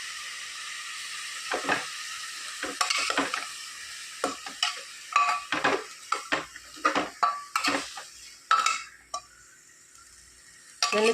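A spoon scrapes and knocks around a pan of Kerala-style pumpkin curry, irregular clatters and stirring strokes over a faint sizzle, close by with no voices.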